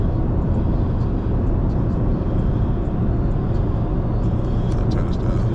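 A car with paddle shifters accelerating through its gears on the road, a loud continuous engine and road roar heard from inside the cabin with no talking.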